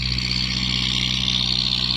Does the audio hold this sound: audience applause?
no